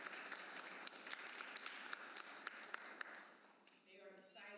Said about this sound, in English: Let's give H.L. Johnson another round of applause.